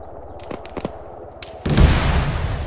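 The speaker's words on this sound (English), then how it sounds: "Whoa! We're taking cannon fire southeast." In the military game Arma, cannon fire lands in a sudden heavy burst partway through. Before it come a few sharp distant shots, and a loud rumbling roar follows the impact and holds to the end.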